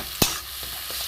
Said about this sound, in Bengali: এটা একটু ভাজা ভাজা হোক, পেস্টটা একটু ভাজা ভাজা হোক।